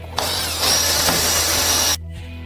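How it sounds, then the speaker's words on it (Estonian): A cordless electric drill drives screws to fasten parts of a router table, a steady loud whine with a rising pitch that runs for about two seconds and then stops abruptly. "Ja ülejäänud saate kenasti elektrilise akutreeniga"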